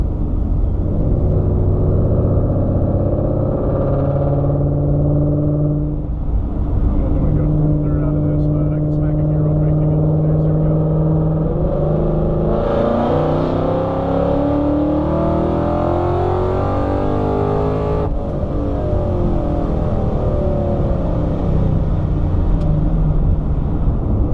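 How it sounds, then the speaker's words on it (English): A supercharged 2015 Ford Mustang engine roars loudly as it accelerates hard in third gear to about 6,500 RPM, pitch climbing steadily with a deep rumble, heard from inside the car. "I'll get a third gear pull."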